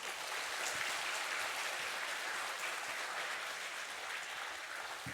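A church congregation gives a warm welcoming round of applause for the pastor at a Sunday afternoon worship service, steady, even clapping that carries on throughout at a moderate distance.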